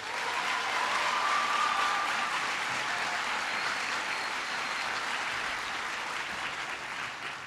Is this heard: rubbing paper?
no